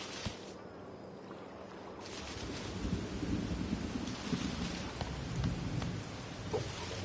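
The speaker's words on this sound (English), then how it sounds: "Oh, it's raining, so now the sweetie flies disappeared." Rain falling in the video game Bugsnax, a steady wash of downpour with low rumbling swells like distant thunder, continuous and moderately loud.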